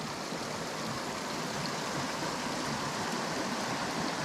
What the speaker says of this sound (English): The water running out of the cliffs.